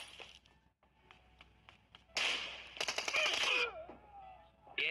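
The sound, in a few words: gunshots in a shooter video game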